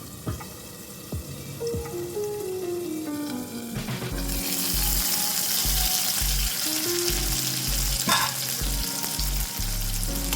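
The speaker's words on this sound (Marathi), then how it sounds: "आता मी ह्याच्यावर झाकण देऊन दोन ते तीन मिनटं हा टोमॅटो शिजवून घेते" Tomato cooking under a lid in a pan over a high gas flame for a dry oyster masala, with a steady frying sizzle that swells louder midway, plus occasional light clinks.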